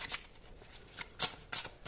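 Tarot cards being shuffled and drawn by hand, a series of soft riffling bursts and papery slides in quick succession, close and fairly quiet, with no talking.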